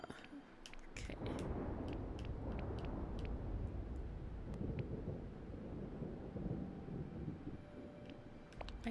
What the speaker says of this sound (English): I kinda like the thunder sound.